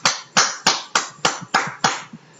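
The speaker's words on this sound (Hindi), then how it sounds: "आप सबके लिए एक बार जोरदार ताली होनी चाहिए" Applause at a training meeting: about seven sharp, loud, evenly spaced clap bursts, each decaying quickly, close by and with no talking.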